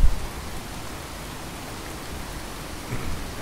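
Steady rainfall in Fallout 4 hisses evenly throughout, with soft low rumbles like distant thunder at the start and near the end, and no voices.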